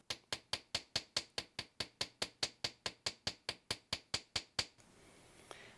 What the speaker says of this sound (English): And I can hammer the rest of it.